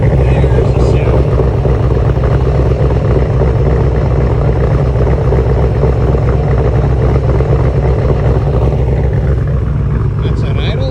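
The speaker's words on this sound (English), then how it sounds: "That's on idle." A Camaro IROC-Z fitted with a GMMG exhaust idles, heard from the rear as a steady, loud low rumble that holds evenly throughout without revving.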